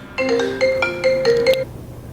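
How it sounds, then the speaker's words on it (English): A phone ringtone for an incoming call plays a short bright melodic pattern of tones, repeating in quick bursts, loud and close, then stops. "received a quick phone call"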